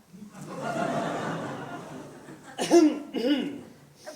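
A person speaks, then gives two quick coughs near the microphone, followed by a brief exhale.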